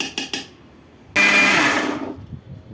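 A kitchen mixer grinder whirs loudly as it grinds soaked finger millet (ragi) with water in a mixie jar for halwa. A few quick clicks come first, then about a second of steady high-pitched motor roar before it winds down.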